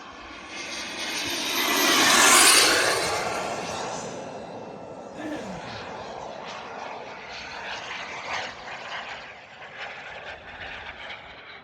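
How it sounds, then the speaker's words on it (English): An Elite Aerosports EA Picaro 2.0 radio-controlled jet roars past overhead, its turbine whine swelling loud then fading into a steady distant hum, with people talking faintly outdoors. "that's a really nice plane."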